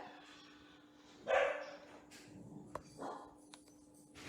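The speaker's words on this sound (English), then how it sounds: "That's my dog." A dog gives a single sharp bark indoors in a home kitchen, followed by softer whimpers and small noises against a faint steady hum, fairly close but not loud.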